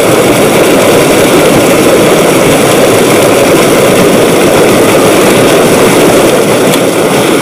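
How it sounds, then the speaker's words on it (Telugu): A farm water pump motor fitted with a mobile starter device in Peddapalli, Telangana runs with a loud, steady, unbroken droning roar, heard alone and still running throughout. "కాల్ ద్వారా మీ మోటార్ ఆఫ్ చేయబడింది."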